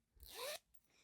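A zipper running down the center front of a vintage crop top is pulled open in one quick, smooth rising zip lasting about half a second, close and clear, followed by quiet.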